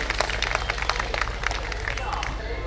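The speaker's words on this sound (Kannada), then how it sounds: "ಈ ಎಲ್ಲ ಮಕ್ಕಳಿಗೆ ಪ್ರೋತ್ಸಾಹದಿಂದ ಮತ್ತೊಮ್ಮೆ ಚಪ್ಪಾಳೆಯನ್ನು ನೀಡಬೇಕಾಗಿ ಕೇಳ್ಕೊಳ್ತೇನೆ" Audience at a school Yakshagana performance applauding the children, a steady wash of clapping throughout with a voice speaking over it.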